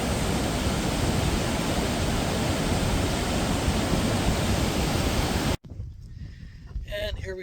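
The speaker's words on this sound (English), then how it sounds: "And so there's that waterfall." Waterfall in Labrador roaring as a loud, steady broadband rush that fills the scene for over five seconds, then cuts abruptly to quieter ambience with faint sounds.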